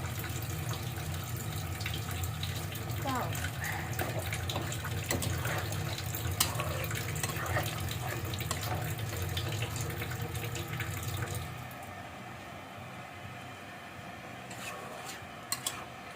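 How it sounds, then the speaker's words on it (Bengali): Water pours steadily into browned village-style country chicken curry in a pan for about eleven seconds, then stops, leaving quieter kitchen sounds and a few small clicks. "আমি অল্প করে পানি দিয়ে দিব"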